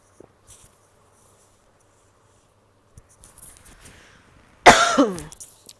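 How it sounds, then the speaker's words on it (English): A single sharp cough close by, loud and sudden after a near-silent stretch with a few faint clicks. "And I'm going to cough."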